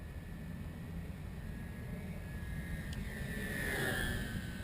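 An electric R/C model plane, a Killer Planes JPower P-model, makes a low pass down the runway at an outdoor flying field, its motor a faint, steady whine that swells slightly as it passes against a constant background rumble.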